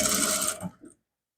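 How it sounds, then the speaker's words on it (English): A sewing machine runs briefly while stitching a trouser, giving a quick mechanical whir that stops abruptly and is followed by a faint clunk before silence. "So here you continue your stitching."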